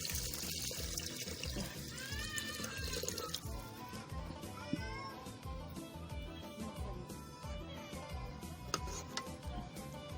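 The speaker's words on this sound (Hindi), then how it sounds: "5 कप पानी है अभी मैं इसमें शामिल कर रही हूँ मसाले में" Water poured into curry masala in a clay pot while making cauliflower kofta sizzles and bubbles up close, a steady pouring splash giving way to simmering gurgles, with no talking over it.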